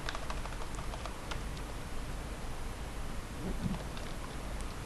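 Code typed on a computer keyboard for a C# encryption program, rapid soft key clicks in an uneven patter over a steady background hiss, close and fairly faint.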